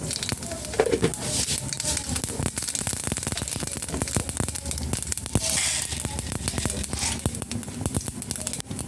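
Mustard seeds crackle and sizzle in hot oil for an upma, a steady dense spattering with sharp pops throughout, close and fairly loud.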